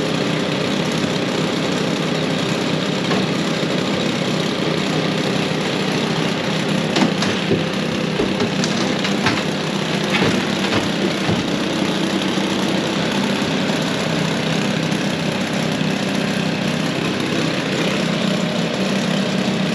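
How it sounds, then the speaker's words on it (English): Stihl BR600 backpack leaf blower engine running steadily at idle, a continuous loud two-stroke drone with a few small rattles and no speech. "favorite backpack blower, the Stihl BR600"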